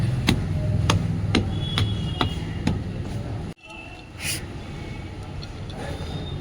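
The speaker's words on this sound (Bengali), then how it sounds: "মাটি শক্ত আছে গুঁড়ো করছি" Hard soil in a rooftop garden is broken up with a tool, giving a series of close, evenly spaced knocking thuds before a short jolt and quieter scraping.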